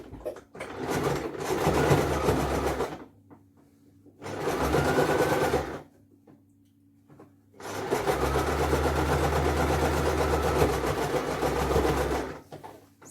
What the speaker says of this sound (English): You pull towards you, so you just stitch on.